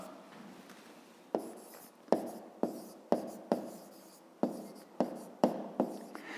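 Handwriting on paper with a pen, a series of about a dozen short scratchy strokes at an uneven pace, close and fairly crisp against a quiet room.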